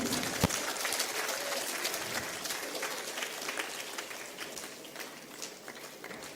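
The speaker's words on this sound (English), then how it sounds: "Can we have a round of applause for the ceremony?" Audience at a holy water ceremony gives a round of applause, a dense crackle of many hands clapping at moderate distance throughout, fairly quiet and steady with no speech over it.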